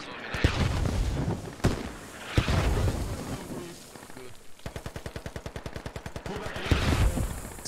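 Mortars and rockets pound an insurgent stronghold in a military shooter game: heavy booming blasts land near and far, then a long rapid burst of automatic gunfire rattles out, with a voice talking over parts of it.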